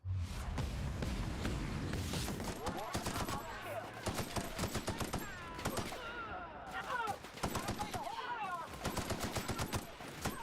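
Rapid bursts of gunfire from The Outer Worlds shooter game, a sharp crackle of repeated shots running through the whole span, with game voices and sounds mixed underneath.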